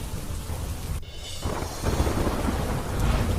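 Heavy rain driven by strong wind with thunder, a loud rumbling crack early on over the dense steady hiss of downpour and gusting wind noise.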